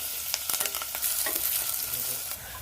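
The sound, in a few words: frying onion, cumin and curry leaves in oil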